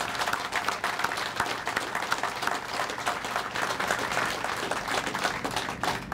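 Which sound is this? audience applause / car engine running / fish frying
audience applause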